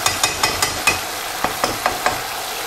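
Minced meat fries in a pan while being stirred, a steady sizzle broken by about ten sharp, regular scrapes of the utensil, close and loud.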